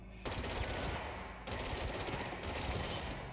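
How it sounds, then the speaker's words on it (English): Automatic gunfire from a weapon in the video game Control rattles out in two dense, rapid bursts with a brief gap between them, fairly quiet overall and with no talking. "My God, this gun just wrecks people now."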